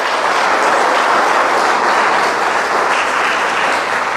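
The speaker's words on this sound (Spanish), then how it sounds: "Dele un aplauso al Señor." Loud, dense applause from a large church congregation, steady and sustained throughout with no voices standing out.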